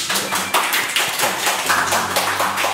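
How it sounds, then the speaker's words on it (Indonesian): Loud, close clapping from a few people welcoming guest Pak Doni on a casual podcast set, brisk overlapping claps over a low background hum. "Dan tepuk tangan buat Pak Doni."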